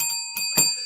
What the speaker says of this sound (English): got to get the bell out